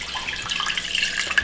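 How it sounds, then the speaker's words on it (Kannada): Water splashes and pours into a pressure cooker along with soaked lentils and rice, a brief close, bright trickling and splashing sound with no talking. "ಕುಕ್ಕರ್ಗೆ ನಾವು ನೆನೆಸಿಟ್ಟಿರೋ ಬೇಳೆ ಮತ್ತು ಅಕ್ಕಿನ ಹಾಕ್ಕೊಂಡ್ಬಿಡೋಣ."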